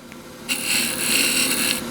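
A woodturning tool on a lathe while a pencil pot is turned: a quiet hum that jumps into a bright, rough scraping rasp for over a second, then eases back, close up with no talk.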